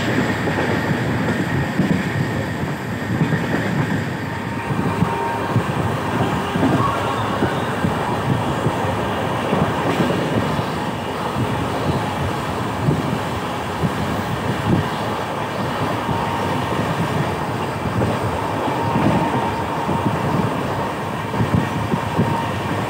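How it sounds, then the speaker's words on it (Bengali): Howrah Bolpur Shantiniketan Express train on the move, a continuous loud rumble of wheels on track with steady rhythmic clatter and occasional faint squeal, heard from inside the carriage. "তো আমাদের ট্রেন এখন গ্রুপ পাস করছে"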